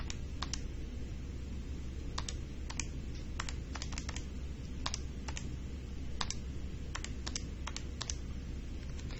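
Steady clicking of small plastic calculator keys being pressed, irregular taps spread throughout over a constant low background hum, no voices.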